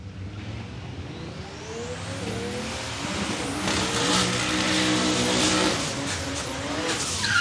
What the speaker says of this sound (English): a couple of big, strong burnouts there